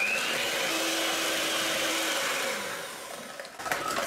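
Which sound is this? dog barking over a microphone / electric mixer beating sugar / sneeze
electric mixer beating sugar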